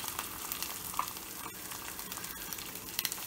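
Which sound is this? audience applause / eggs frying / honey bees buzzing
eggs frying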